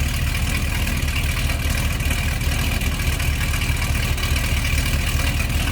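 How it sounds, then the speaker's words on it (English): A 1970 Chevrolet Nova Sport Coupe engine idles steadily with a deep, throaty exhaust rumble, continuous and close, with no talking. "Nice throaty exhaust."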